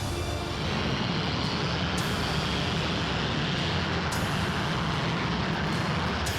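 A Fairey Delta II jet aircraft roars through a flying demonstration, a loud, steady, broad jet rush that holds throughout without a break.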